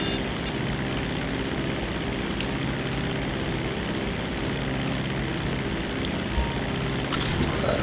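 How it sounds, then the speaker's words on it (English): The Mammoth Dodo seaplane's propeller engine in GTA 5 Online gives a steady, dense drone that holds evenly throughout, with no talking. "Mammoth Dodo Sea Plane."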